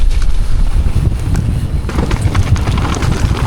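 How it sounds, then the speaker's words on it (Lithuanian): Strong gusty wind buffets the microphone outdoors at a race, a loud, continuous low roar and rumble that surges and thickens partway through, with no speech over it. "Koks vėjas! O, dieve, tu mano, koks vėjas!"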